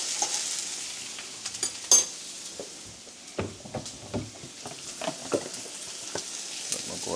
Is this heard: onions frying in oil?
yes